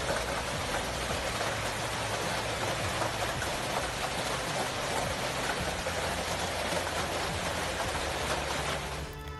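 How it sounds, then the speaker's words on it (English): Heavy hail pours down in a steady, dense patter that runs unbroken for the whole stretch, loud and close with no voices. "So what happens when extreme amounts of hail fall to the ground?"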